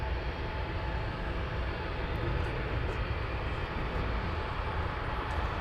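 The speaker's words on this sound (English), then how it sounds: "I think we have a DC-3 taking off." A Douglas DC-3 propeller airplane taking off at Anchorage airport gives a steady, unbroken roar that holds at an even level, heard from a distance with no voices.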